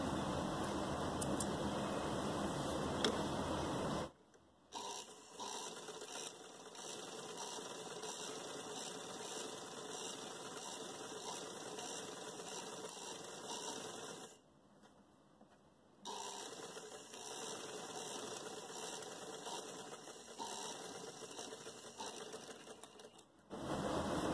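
A sewing machine stitches a gharara trouser in steady, continuous runs, stopping briefly twice before starting up again at an even mechanical whir.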